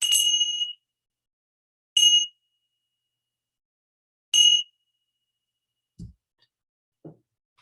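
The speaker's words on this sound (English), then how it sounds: "I'll ring the bell to start us." A meditation bell struck three times at a slow, even pace, each ring bright and clear with a short ringing decay, followed by two faint low knocks in an otherwise silent room.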